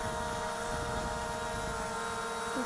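A ZLRC SG906 GPS Pro two-axis gimbal FPV camera drone in flight gives off a steady, close, buzzing rotor whine that runs unbroken through the whole clip, with no talk.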